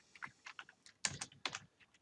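Keys clatter on a computer keyboard as code is typed into R, a quick irregular run of close, crisp taps in small bursts with short pauses between.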